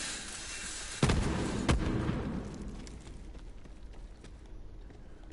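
The COV launcher in the game Borderlands 3 fires two heavy booming shots about half a second apart, each followed by a rumbling tail that fades into a quieter crackling, with ambient game noise around them.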